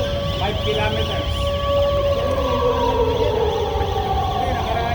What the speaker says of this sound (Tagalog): Ang tawag dyan, siren.